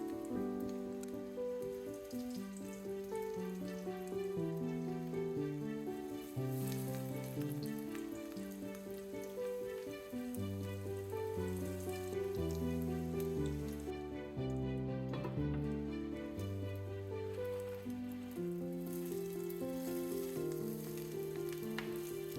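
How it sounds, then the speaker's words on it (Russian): Eggplant slices sizzle steadily in vegetable oil in a frying pan over medium heat, a continuous crackling hiss with soft background music underneath. "Обжаривать баклажаны нужно примерно 1 минуту с каждой стороны."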